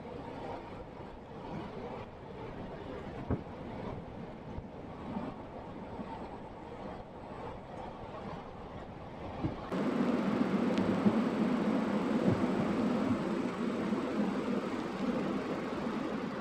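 A Kacheguda–Medak passenger train runs on a non-electrified line, giving a steady rolling rumble from inside the coach that turns noticeably louder and fuller about two-thirds of the way through.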